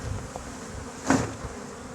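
A steady insect buzz hums throughout, with a brief louder swell near the middle, bees droning close by in a hive.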